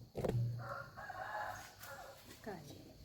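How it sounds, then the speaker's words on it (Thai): A rooster crows on an early morning, one drawn-out call rising and falling over about three seconds, fairly close, with faint background noise and a brief human voice. "ไก่"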